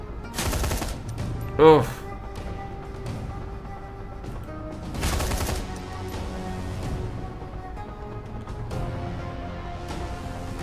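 Gunfire in Shadowrun Hong Kong, a few loud bursts of rapid shots, one near the start and another around the middle, separated by quieter game ambience and a brief voice.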